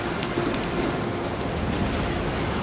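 A storm lashes a ship's deck in the video game Pillars of Eternity II, with heavy rain pouring in a dense, constant hiss, loud and unbroken throughout, with no voices.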